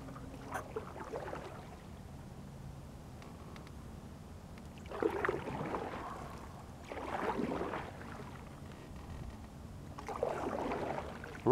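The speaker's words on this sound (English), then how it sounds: "Now I'm gonna be paddling for a while, at least till this corner." A kayak paddle dips and pulls through calm water in several soft, rhythmic splashing strokes spaced a couple of seconds apart, faint and close over quiet outdoor ambience.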